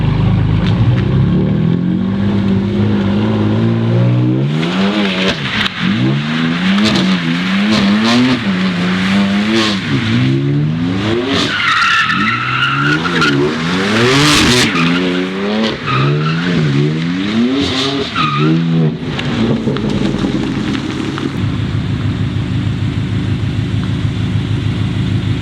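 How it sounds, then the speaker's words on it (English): A 600 hp BMW M6 Gran Coupe Competition driving hard, its engine revving up and down through repeated loud climbs with squealing tires, close and continuous with no talking. "a quick snippet, maybe 30 seconds, a minute of a driving experience of this BMW M6 Grand Coupe"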